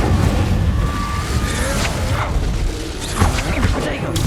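A fire spell bursts in the Hogwarts Legacy video game, a dense, roaring boom sustained over several seconds with crackling bursts layered through a busy battle mix.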